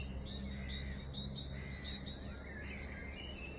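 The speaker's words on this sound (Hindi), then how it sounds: "और चिड़ियों की आवाज़ें सुने" Several birds chirp and twitter at dawn, around 4:45 a.m., heard from a balcony, their repeated calls overlapping above a low steady hum.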